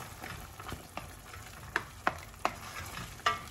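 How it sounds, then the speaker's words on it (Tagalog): Canned sardines cooking with egg in a pan, a soft steady sizzle broken by several sharp spatula scrapes and taps as the mixture is stirred, close and clear. "So, haluin natin."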